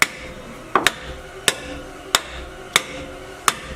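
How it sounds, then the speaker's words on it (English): A hammer strikes stuck old drum brakes on an abandoned Dodge Challenger, six sharp metallic blows at a steady, roughly even rhythm, close and loud, over faint background. "Show you my technique for busting up these old drum brakes when they're stuck."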